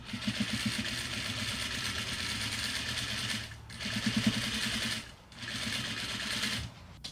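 A sewing machine runs in three steady bursts of rapid stitching while sewing a wider French seam, each run separated by a short pause, close and moderately loud with no talk.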